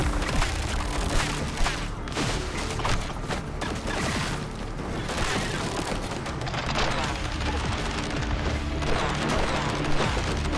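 Dense, continuous bursts of explosions and gunfire from enemies blowing up in the roguelike FPS game ODDCORE, a loud, unbroken barrage of booms and rapid shots filling the whole stretch.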